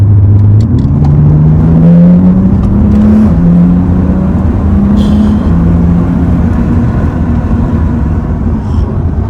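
A tuned BMW M235i accelerates hard from inside the cabin, its loud engine note rising steadily in pitch with a brief dip at a gear change, droning strongly throughout.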